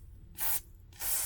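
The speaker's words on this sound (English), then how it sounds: "with the spray and the toothbrush" Two short bursts of aerosol spray hiss into a laptop charging port, each about a quarter second, close and fairly soft, separated by a brief pause.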